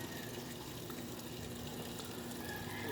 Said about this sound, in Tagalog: Ayan, lumabas ng tubig.